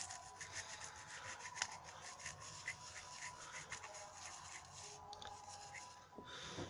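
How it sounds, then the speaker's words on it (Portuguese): A soft toothbrush scrubs a remote control soaked with isopropyl alcohol, making a faint, continuous close-up rubbing with quick back-and-forth strokes and no talk. "vou esfregar com calma, usando uma escova de dente macia"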